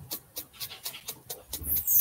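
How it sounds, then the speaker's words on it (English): A dog's rhythmic, raspy breathing repeats about eight times in quick succession, close by, with a louder rustle at the end. "Dog is snoring and the cat wants in."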